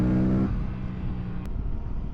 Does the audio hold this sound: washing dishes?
no